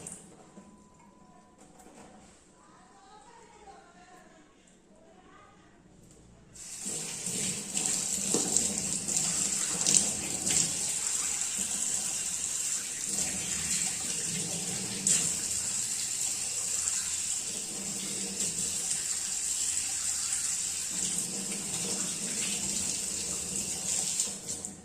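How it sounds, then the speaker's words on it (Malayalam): A tap turns on and runs steadily into a sink for a face wash, a loud continuous stream with small splashes, preceded by a few seconds of quiet room sound. "നമുക്കിനി ഫേസ് ഒന്ന് വാഷ് ചെയ്തൊന്ന് വരാം."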